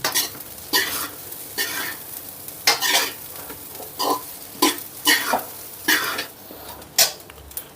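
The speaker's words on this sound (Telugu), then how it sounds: "ఇప్పుడు స్టవ్ని హై ఫ్లేమ్లో పెట్టుకొని మన రైస్ని బాగా కలుపుకుందాం" Coconut rice stirred vigorously in a pan over high flame, with about a dozen distinct scraping strokes in an uneven rhythm over a soft background sizzle.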